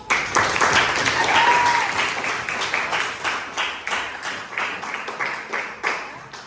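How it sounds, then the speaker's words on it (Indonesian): Classroom applause from students at a lesson, dense clapping that starts loud and settles into a steadier, slightly thinner patter, with a brief whistle-like tone early on. "Tepuk tangan dulu."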